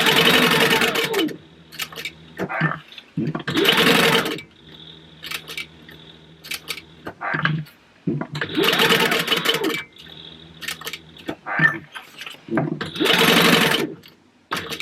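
Sewing machine stitching a Pokemon book bag at stitch length 3, running in repeated bursts of steady whirring broken by short pauses, close and fairly loud.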